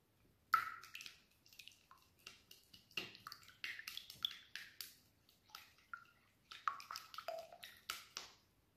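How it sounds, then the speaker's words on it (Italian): Eggs are cracked into a bowl for a crumbly apple tart, a run of sharp close taps and wet cracks followed by soft dripping and squishing as the contents slide out, quiet and free of talk. "Cominciamo a rompere le uova in ciotola."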